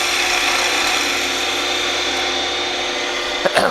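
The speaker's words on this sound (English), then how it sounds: "That noise that you hear is a little bit of vibration because of that small 3/4 inch diameter." Wood lathe spinning a thin 3/4 inch diameter blank that flexes slightly under light cuts, giving a steady, loud rasping hum with fine chatter throughout and a brief knock near the end.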